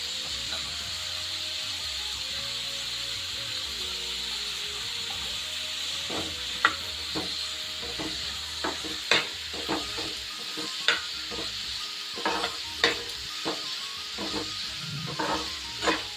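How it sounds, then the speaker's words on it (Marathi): Hadga (hummingbird tree) pods fry in oil with a steady, soft sizzle and hiss, while sharper clicks and clatters of stirring come in a loose, irregular rhythm partway through. "शेंगा आहे ना चांगले आता तेलात फ्राय करून घेते"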